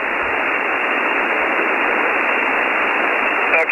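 Receiver audio from an Elecraft KX3 ham radio set at QRP power, a steady band of hissing static noise, fairly loud and unbroken, with no voices.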